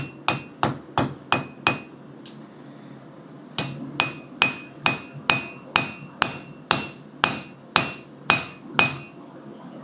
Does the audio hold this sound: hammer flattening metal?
yes